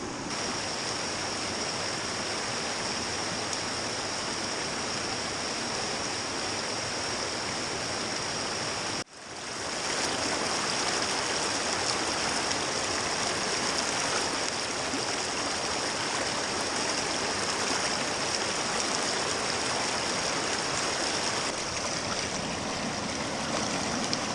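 Water rushes steadily through a gold prospecting sluice beside a creek, a constant loud broadband wash with a brief dip partway through, then continuing unbroken, with no talking.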